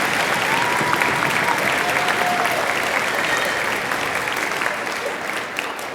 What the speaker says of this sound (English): So a round of applause for yourselves for being here and supporting the arts in Roseville.